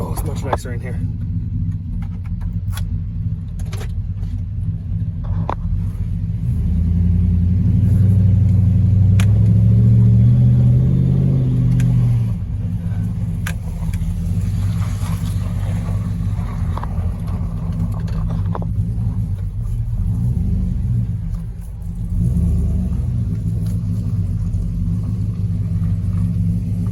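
A Chevrolet Silverado pickup truck with a Cadillac conversion idles in a steady low engine rumble, heard from inside the cab with a brief swell in the middle, while someone talks over it.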